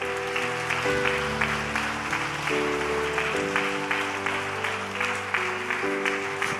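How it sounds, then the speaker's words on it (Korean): Church congregation applauding during a Korean evangelistic invitation service, dense steady clapping filling the room, with music or sustained tones playing underneath throughout. "옆에 계신 분에게 박수 한번 보내주세요."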